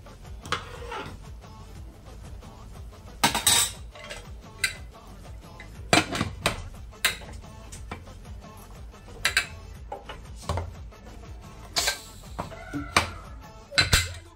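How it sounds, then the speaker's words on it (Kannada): A metal pressure cooker lid is set onto the pot and locked, giving a string of loud, close metallic clinks and clanks spread unevenly across the stretch, with no talking. "ಕುಕ್ಕರ್ ಮುಚ್ಚಳ ಹಾಕ್ತೀನಿ."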